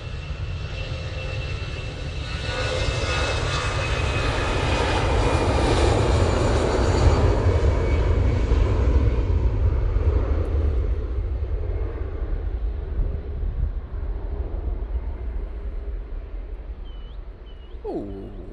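An Easyjet airliner takes off at Manchester Airport, its engines a loud, sustained roar that swells to a peak and then slowly recedes into the distance.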